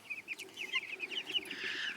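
Meat chickens cluck in their new pasture house on a farm, a busy run of short, rapid clucks and chatter from several birds, fairly close and with no talk.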